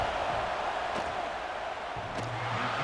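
A stadium crowd in the College Football 26 video game roars steadily at a distance, a dense continuous wash of cheering with a couple of brief sharp accents, and no talk over it.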